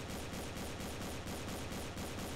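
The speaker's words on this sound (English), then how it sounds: "Oh, I can hear shooting." Sustained rapid automatic gunfire from the Island Royale video game, a dense continuous rattle of shots held at a steady, loud level for the whole stretch with no voices.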